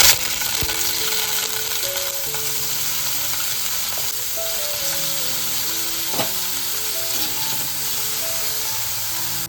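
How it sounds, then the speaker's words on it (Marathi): Paneer pieces fry in a little oil in a pan, sending up a steady, close crackling sizzle that runs unbroken throughout, with faint pops and a stray clink. "तर इकडे ना आता आपण सर्व पनीर फ्राय करून घेतोय."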